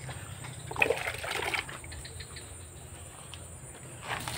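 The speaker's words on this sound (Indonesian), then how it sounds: "langsung kita siram dengan menggunakan air." Water trickles and splashes softly onto water apple plants after fertilizing, a faint, steady pour with a few brief louder splashes near the start.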